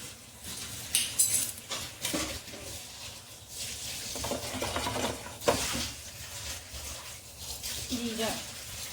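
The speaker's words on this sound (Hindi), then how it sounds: "जीरा डाल देंगे, कड़ी पत्ता, हींग डाल देंगे इसमें।" Cumin, dried red chilies, curry leaves and asafoetida hit hot oil for a kadhi tempering, giving a moderate sizzle mixed with stirring and the clink of pots and utensils, and a voice talking intermittently over it.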